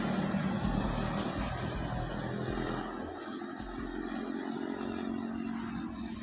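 A Scania K410 IB bus travels on a toll road in Aceh, with a steady broadband rumble of engine and tyre roar, heard from some distance and fairly faint.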